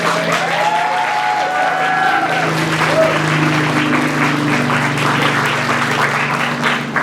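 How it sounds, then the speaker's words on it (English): Sustained crowd applause at an outdoor freedom rally by the Biloxi Lighthouse, honoring Biloxi police and the mayor, steady and dense throughout with a voice briefly heard over it early on. "give Biloxi PD and Mayor Gillish a round of applause"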